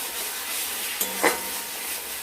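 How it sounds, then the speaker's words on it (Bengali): A fish curry with sun-dried lentil dumplings is stirred and sautéed in a pan, giving a soft, steady sizzle with a couple of brief scraping knocks from the spatula, close by and without talk. "আরও একটুখানি আমরা কষে নেব।"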